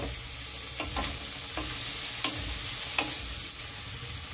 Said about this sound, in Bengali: এবার ভাজার জন্য দিয়ে দিচ্ছি কড়াইতে